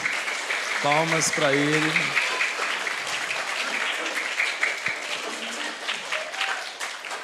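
Audience clapping for a children's book author at a book launch, steady applause lasting several seconds while a voice speaks briefly near the start.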